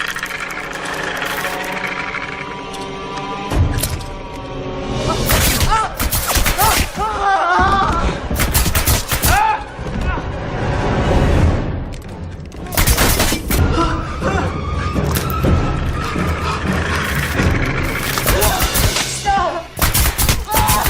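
Loud video game gunfire from a horror game gun scene, with bursts of shots, crashes and booms coming in clusters over a constant background score.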